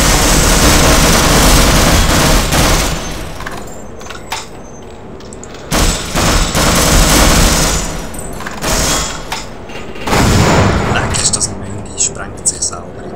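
Grenade explosions in Half-Life, an enemy blowing himself up: several loud, broadband blasts and rumbling gunfire-like bursts, with a strong hit near the start and others around six and ten seconds, under ongoing German commentary.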